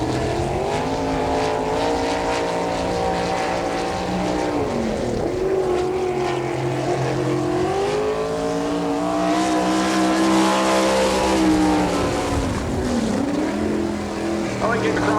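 Sprint car number 58 roars through a qualifying lap at a dirt track in Woodstock, Georgia, its engine rising and falling as it passes near, with an announcer talking over it throughout.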